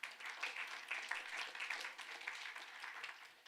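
An audience at a panel discussion on formation claps for Josh, a faint, thin patter of scattered hands that swells slightly and then tapers off.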